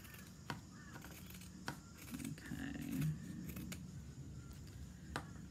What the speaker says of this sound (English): Trim it down to about 1/4 inch.